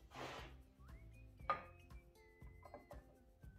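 Ceramic egg ramekins clink and knock as they are set one by one into an oven-safe baking dish for a bain-marie, a few quiet, close ceramic taps with small scrapes and no talking.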